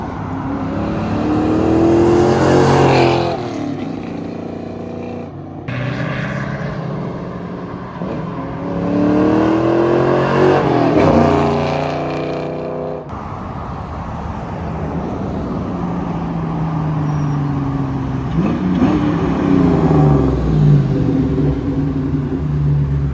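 A New Edge Ford Mustang GT V8 engine revs up several times in loud surging bursts, rising and falling in pitch as it accelerates and drives, with no talking.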